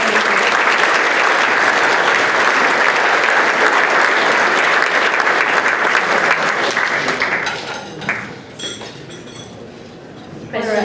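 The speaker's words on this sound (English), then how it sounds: "how about a round of applause for Al?" A lunch-series audience gives a speaker a sustained round of applause, a loud, steady wash of clapping that thins out and fades over the last few seconds, with faint clinks of dishes and cutlery in the room.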